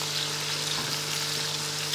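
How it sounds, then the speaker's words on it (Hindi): Three or four small sliced onions fry gently in oil with cumin over a low flame for aloo pulao, giving a steady, even sizzle that runs unbroken and close with no voices. "इस प्याज को भी हमने हल्की सी आँच पर पकाना है, आग तेज़ नहीं करनी"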